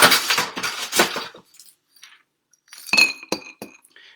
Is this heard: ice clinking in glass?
yes